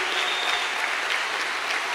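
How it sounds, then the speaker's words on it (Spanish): Steady applause from a graduation ceremony audience at a university psychology faculty, a continuous dense patter of many hands clapping for graduates' families, fairly even in loudness across the short stretch. "ofrézcales un aplauso, seguramente derramarán una lágrima"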